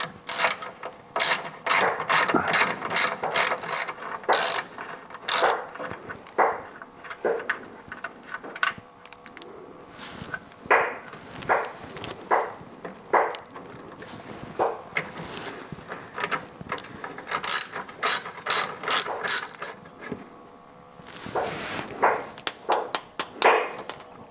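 On a 1967 Chevrolet Corvette, a ratchet wrench works 9/16 nuts and bolts loose in repeated bursts of quick, crisp clicking, broken by brief pauses and slower single ratchet strokes.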